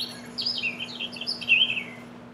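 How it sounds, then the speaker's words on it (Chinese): Bird chirping sound effect from an editing library, a run of bright, close twittering chirps in quick bursts over a faint steady hum, no talking. "鸟叫，这边有鸟叫"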